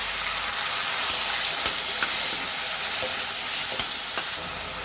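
Tomatoes cooked with onion, green chili and curry leaves for a drumstick and brinjal sambar sizzle loudly and continuously in a pan, with a few faint clicks of stirring through the steady hiss.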